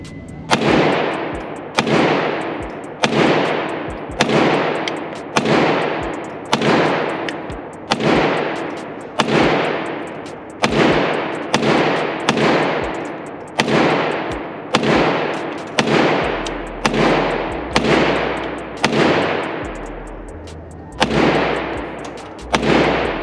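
A B&T GHM9 Gen 2 pistol-caliber carbine fires about twenty loud single shots at a steady, evenly spaced pace, each sharp crack followed by a short ringing decay.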